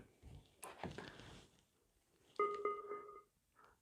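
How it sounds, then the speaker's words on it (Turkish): An Anker Soundcore Flare Bluetooth speaker's power-on chime of a few rising tones sounds clearly after some soft handling noise, then fades away. "Evet bu açılma sesi."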